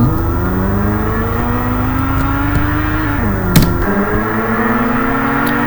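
A car engine revs steadily in a homemade racing video game, its pitch climbing and dipping as it accelerates, with a brief sharp knock midway and no talk over it.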